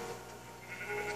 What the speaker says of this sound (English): this is her pet sheep